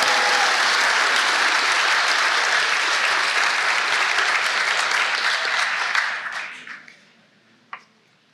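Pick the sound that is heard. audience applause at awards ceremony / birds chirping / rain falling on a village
audience applause at awards ceremony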